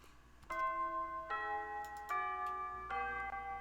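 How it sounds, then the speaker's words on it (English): A school bell chimes to mark the start of lunch, playing four sustained, ringing tones in a stepped sequence, each note held before the next begins. "The bell rings, signalling the start of lunch period"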